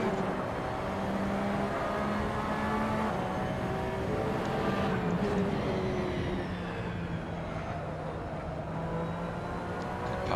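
Porsche 911 RSR race car engine in Assetto Corsa, a continuous loud drone held high in third gear as the pitch climbs and dips slightly through a hot lap.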